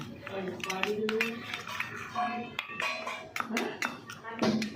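A spoon scrapes and clinks against a bowl while mixing spices into sour yogurt, with light, irregular metallic taps close by under steady talk.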